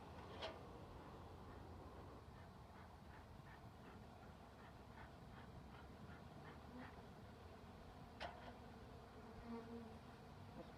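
A honey bee swarm, caught in March and now housed in a beehive, gives a faint, steady buzzing drone that runs through the whole stretch without any voices.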